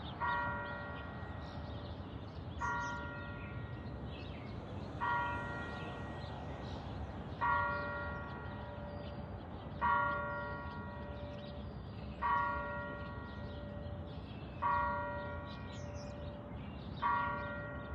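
A large bell in a tall church tower strikes eight times at a slow, even pace, each ringing tone hanging over steady outdoor background noise, heard from a moderate distance without talking.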